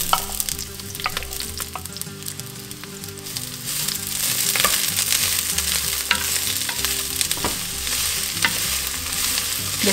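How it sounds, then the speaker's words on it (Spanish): Onion and green pepper fry over medium-high heat in hot oil, producing a loud, continuous sizzle with crackles and occasional utensil scrapes that runs unbroken for the whole stretch, with no one talking. "En un poco de aceite caliente comenzamos por freír la cebolla y el pimiento verde a lumbre media alta."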